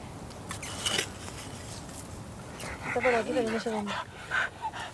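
A truffle-hunting dog sniffs and whimpers with a few short yips while people talk over it in the field.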